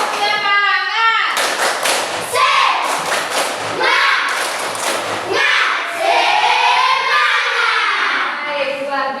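Children in a classroom repeat the rhythmic 'tepuk semangat' clap, with clusters of sharp patterned claps and thuds mixed with loud group chanting and talking throughout.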